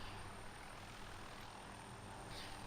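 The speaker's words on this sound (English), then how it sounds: "how a Little Bird can land on a roof and then take off afterwards" An MH-6 Little Bird helicopter lands on a rooftop, its engine and rotor making a steady, fairly loud, continuous wash of noise throughout.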